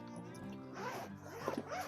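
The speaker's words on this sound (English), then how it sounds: "Zipper is very smooth" The zipper on a bag's front pocket is pulled open in one short, smooth, continuous rasp, close up and fairly quiet.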